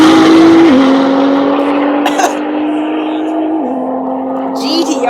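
A 1,100-horsepower GTR drag car at a festival-of-speed drag race, its engine holding a loud, steady drone that drops in pitch twice as it shifts, with brief sharp bursts near the end.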